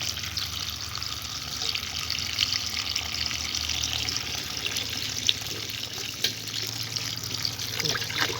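Bananas washed in water under a running tap, a continuous close splashing and gushing flow with occasional small knocks.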